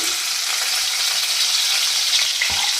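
Green chili and crushed garlic sizzle steadily in hot oil with cumin, a loud continuous close-up frying hiss with faint stirring rattles and no talk.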